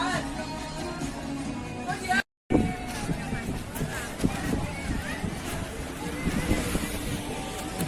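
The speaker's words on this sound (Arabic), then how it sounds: "دي بقى مراكب رحلات افراح كبيره وجميله بصراحه." Large party cruise boats on the Nile rumble near a busy riverside promenade, with steady engine and water noise mixed with crowd babble and people talking, briefly cut by a short gap.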